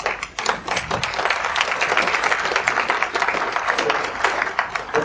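An audience at a Temple Terrace candidate forum applauds first responders: dense, steady clapping fills the room for the full five seconds with a voice mixed in.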